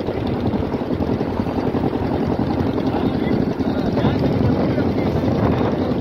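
A fishing boat's engine drones loudly and steadily as it heads out past the jetty toward the breakwater into the open sea off Manora at night, with wind buffeting the microphone throughout.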